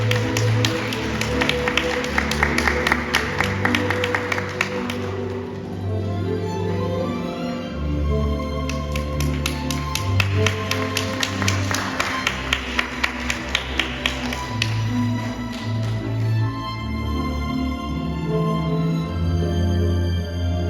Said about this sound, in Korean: 화촉 전화가 진행될 때 박수 보내주시면 감사하겠습니다